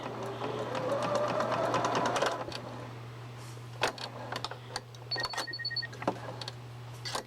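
A sewing machine stitches binding along a quilt's edge in a short whirring burst of about two seconds, then stops, followed by faint scattered clicks and handling noises.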